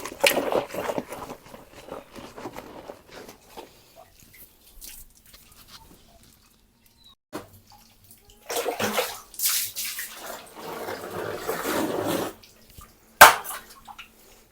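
Clothes being washed and soaked by hand in very cold water in Arunachal, with bursts of sloshing and splashing between quieter stretches and a sharp splash near the end.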